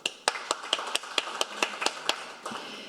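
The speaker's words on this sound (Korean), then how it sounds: "큰 박수 부탁드리겠습니다" Scattered claps and taps ring out in a loose, uneven burst of applause at a panel discussion, moderately loud and close, with no voices.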